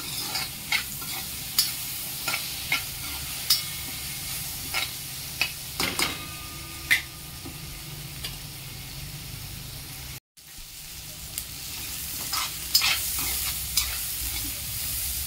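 Chopped tomato and onion are stirred and sautéed for gilkyach bharit, giving a loud, steady sizzle with regular spoon taps against the pan and a brief dropout in the middle.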